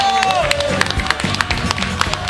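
A crowd claps and cheers, with scattered sharp claps over a busy murmur of voices and noise.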